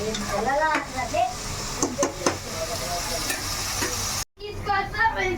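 Chopped onions frying in a home-cooking pan for a country-chicken dish, a steady close sizzle with scraping stirs, a brief quiet gap near the end, then the sizzle resumes.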